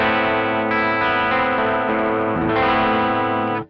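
A single guitar chord rings out dry with no reverb, a sustained distorted tone holding steadily for a few seconds, then cutting off abruptly at the end.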